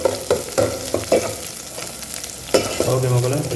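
Chilli goes into a pan of potatoes and is stir-fried for a Tamil cabbage and mixed vegetable poriyal, with close spatula scrapes and knocks over a steady sizzle.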